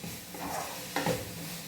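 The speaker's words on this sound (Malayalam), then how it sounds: "ഞാൻ സവോള പെട്ടെന്നൊന്ന് വഴന്ന് കിട്ടട്ടെ." Onions sauté in a hot pan with salt, giving a soft steady sizzle with a brief stirring scrape near the middle, close and moderate in level, no talk.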